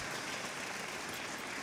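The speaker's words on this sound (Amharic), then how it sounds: "አጨብጭቡ ለእግዚአብሔር ክብር።" A church congregation claps during a worship service, a dense, even wash of many hands heard faintly from a distance, with no voices.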